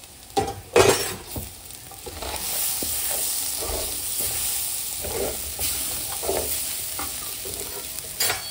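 Rice for khichdi stirred and frying in a pan, a steady crackling sizzle with scraping spoon strokes and a few sharp clinks, fairly close and continuous throughout with no talk.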